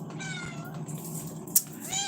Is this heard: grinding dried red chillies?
no